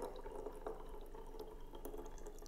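Lukewarm tap water filling a bottle, a steady soft running and splashing wash with small drips, fairly close and continuous, no voices.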